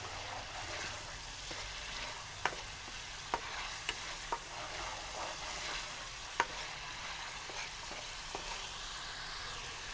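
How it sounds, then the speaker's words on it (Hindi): Onions fry with ginger-garlic paste in a pan for aloo gosht, a steady soft sizzle with a few sharp clicks of a stirring spoon, close and fairly quiet, no voices. "अब इसके अंदर हम लहसुन अदरक का पेस्ट डाल देंगे"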